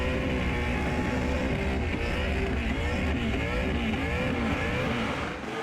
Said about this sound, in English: He's gone from the full consistent RPM to now that pumping throttle sound, which tells us the tyres are off.